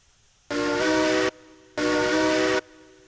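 Two loud, sustained blasts of a steam locomotive whistle in the Railroads Online video game, each a bit under a second long with a short gap between, rich and harmonic, standing alone with no talk.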